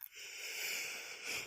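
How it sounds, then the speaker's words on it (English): A single pained yawn, drawn out as a strained, breathy wheeze that lasts over a second, close and alone with no talking. "it's painful. It's painful to even yawn."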